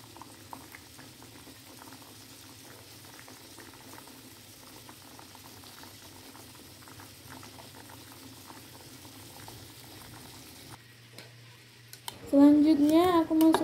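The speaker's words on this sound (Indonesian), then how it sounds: "dan aku akan rebus ubinya guys." Sweet potatoes boiling in a pot of water, a low bubbling simmer with soft patter that runs for most of the clip before cutting away to a loud voice talking near the end.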